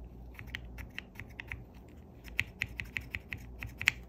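Keystrokes on a Plume65 keyboard with Gateron Ink switches on an aluminum plate, a steady run of crisp clacks with a few louder, sharper hits near the end, close and alone without talk.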